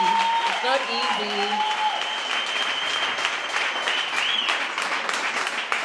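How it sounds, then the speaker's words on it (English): Loud, dense applause from a large crowd fills the whole stretch, steady and continuous, with a brief voice or whoop rising over the clapping near the start. "One more round of applause, you guys."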